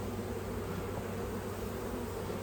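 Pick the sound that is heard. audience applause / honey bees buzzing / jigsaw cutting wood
honey bees buzzing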